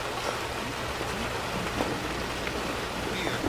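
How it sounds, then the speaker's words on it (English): Steady rain hisses continuously, with scattered drops pattering on surfaces close by; no voices are heard. "No need to stand out in the rain."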